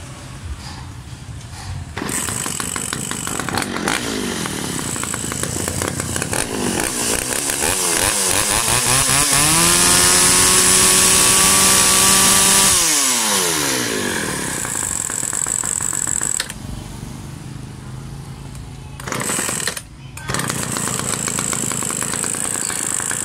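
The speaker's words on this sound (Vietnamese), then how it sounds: "mình sẽ nổ máy lại cho anh em xem lần nữa" A Shindaiwa E350AV chainsaw engine starts and runs, idling roughly, then revving up to a high sustained whine before dropping back to idle, with brief cutouts near the end, loud and close.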